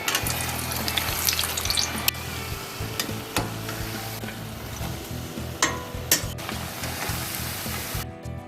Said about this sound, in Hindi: अब हम इनको करेंगे फ्राई। और कढ़ाई में भी ऑयल गर्म हो चुका है।